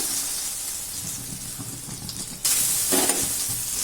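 Eggs fry in masala in a pan with a soft, steady sizzle, followed by a sudden louder burst of hissing crackle in the second half.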